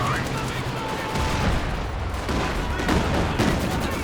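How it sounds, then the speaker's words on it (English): Katyusha rocket barrage landing in the World War II strategy game Company of Heroes 2, a dense, continuous rumble of blasts and crackling gunfire, loud and sustained without pause. "Oh, the Katyusha rockets falling."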